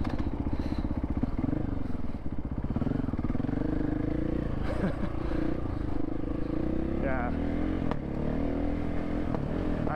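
A motorcycle engine drones and revs steadily on a rough single-track trail, close and continuous, with clattering and scraping from the terrain and a voice speaking briefly over the engine.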